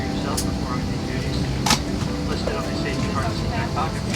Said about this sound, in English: I'm finally on the airplane.